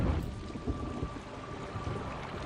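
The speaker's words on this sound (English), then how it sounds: "Sounds like it's gonna rain." Steady rain hiss with low rumbling thunder rolling underneath in the video game Zork Nemesis, continuous and fairly loud, with a faint constant hum running through it.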